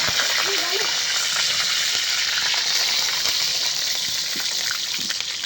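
Fish frying village style in oil with curry leaves, a loud, dense crackling sizzle with rapid popping spatter that runs steadily throughout.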